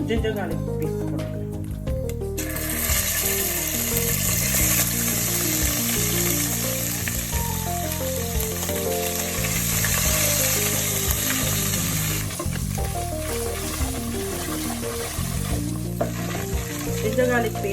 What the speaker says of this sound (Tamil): இப்போ ஜிஞ்சர் கார்லிக் பேஸ்ட் போடுறேன்.